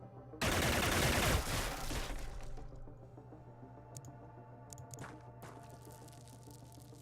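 Suppressive gunfire in the turn-based strategy game Xenonauts, a loud burst of rapid automatic shots over about two seconds that fades into a lingering rumble with a few faint later pops.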